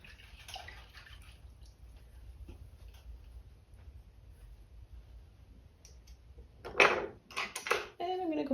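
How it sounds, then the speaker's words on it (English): Paint being rinsed from an artist's brush in a water container, with brief swishing and clinking against the container's side late on, after a stretch of quiet. "I'm going to just rinse all this paint out."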